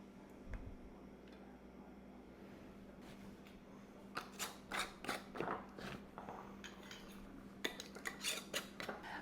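Metal canning lids clink and tap against glass jars of pickled banana peppers in a home kitchen, a series of quiet, close metallic clicks in irregular bursts over a low steady hum.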